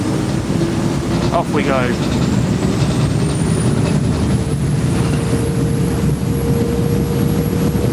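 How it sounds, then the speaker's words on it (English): Thames Clippers river boat engine on the Thames in London rising into a strong low rumble under wind noise, with a high whine climbing as it picks up speed; someone speaks briefly near the start. "you can hear the engine kicking in"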